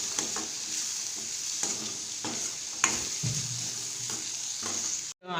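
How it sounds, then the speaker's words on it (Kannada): Bread cutlet mixture with garam masala being stirred in a hot pan, a steady sizzle broken by repeated spoon scrapes at an even pace, close and alone with no voices. "ಈಗ ಗರಂ ಮಸಾಲ ಹಾಕ್ಕೋತಾ ಇದ್ದೀನಿ. ಈಗ ಮತ್ತೆ ಮಿಕ್ಸ್ ಕೊಡಬೇಕು."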